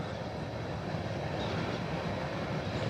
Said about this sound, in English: You can see a train going by today now.